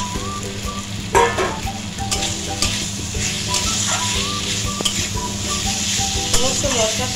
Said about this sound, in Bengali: সমস্ত মশলা ফুটে আলুগুলো ভালো করে ভেজে নেব বা কষিয়ে নেব।